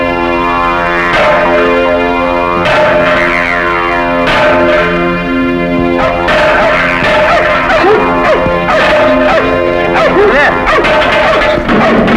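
Several dogs bark loudly and repeatedly, with some yips and whimpers, over a constant ringing, bell-like backdrop.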